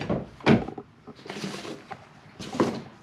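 Wooden drawers in the bed of a 2020 Toyota Tacoma TRD Overland slide and thump open and shut several times nearby, with scraping rattles between the knocks.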